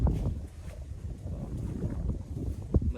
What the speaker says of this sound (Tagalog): Tapos malakas pa ang hangin.